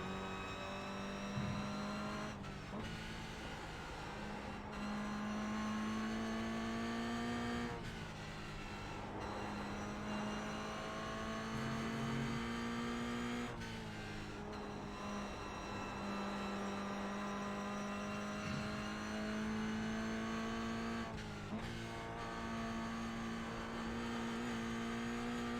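A race car engine from a racing video game drones steadily at a high pitch, with sharp dips and rises at each gear change or lift, repeating at intervals and heard alone.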